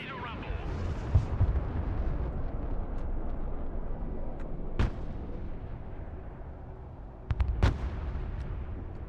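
Heavy artillery booms in a war strategy video game: a continuous rumbling battle bed with a few sharp cannon blasts standing out, one near the middle and a closely spaced pair toward the end, loud and close.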